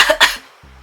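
A voice imitates a cough, giving two quick harsh bursts up close followed by a brief low vocal tail.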